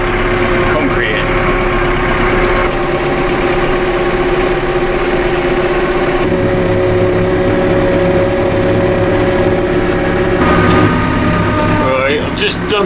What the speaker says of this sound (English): Bit of a strain on this tractor. Luckily it's a powerful tractor.